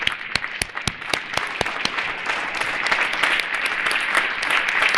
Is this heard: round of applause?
yes